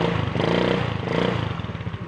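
A motorcycle engine with no working starter runs after being push started, loud and close, with a steady pulsing chug and some clattering.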